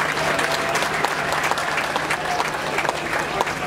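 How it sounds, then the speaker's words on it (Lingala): A crowd at a UDPS political party congress applauds in a dense, continuous wash of clapping, loud and sustained throughout with no pauses. "Acclamez s'il vous plaît."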